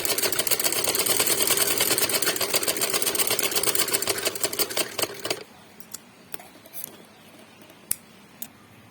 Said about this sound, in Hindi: ये सिलाई पूरी होने वाली है हमारी